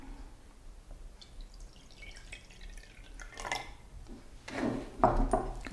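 Water is poured into a glass: a faint, steady trickle swells into louder splashing and dripping toward the end, close by and alone.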